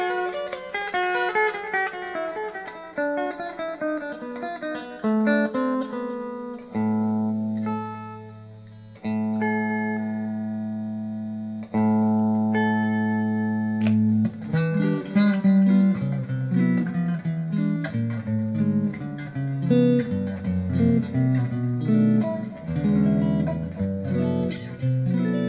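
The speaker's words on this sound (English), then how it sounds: "this Strat just has so many good sounds." A Fender Classic Vibe Stratocaster electric guitar plays alone, moving from sustained ringing chords and held notes into quicker, busier picked passages, clear and fairly loud throughout.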